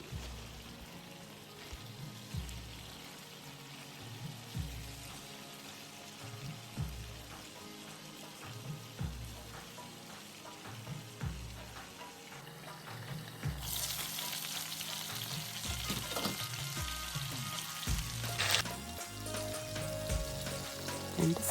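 Chicken pieces fry in hot oil in a pan for biryani, giving a steady crackling sizzle with a few stirring clatters and small bumps. The sizzle grows louder and brighter partway through and holds close and strong, with no voices.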